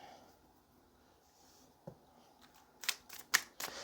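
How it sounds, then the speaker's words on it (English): Quiet rustling gives way to a few quick, crisp riffling bursts near the end, like cards being shuffled up close. "let's go ahead and shuffle one more time"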